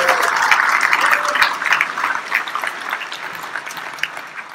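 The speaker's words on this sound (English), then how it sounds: "let's clap for Elliot" Audience applause for Elliot at a Chef Habitat and InSpec tech demo, steady dense clapping throughout that tapers slightly toward the end, with faint voices underneath.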